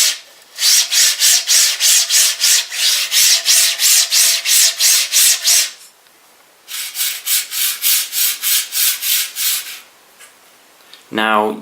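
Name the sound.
linear rail guides sliding noise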